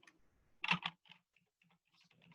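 Keys clatter on a computer keyboard while someone enters a spreadsheet formula, a quick burst of a few loud clicks followed by softer scattered taps, close and alone.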